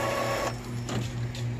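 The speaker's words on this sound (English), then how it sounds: "There is no bond paper there, but it's trying to print." An Epson L3110 inkjet printer runs its feed mechanism with no paper loaded, giving a steady mechanical whir with a shift in pitch partway through, moderately loud and close, with no voices.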